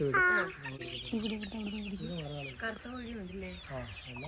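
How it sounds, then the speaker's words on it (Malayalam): Chickens cluck repeatedly at close range in bursts of short calls, mixed with people talking nearby. "കോഴി വേണോ"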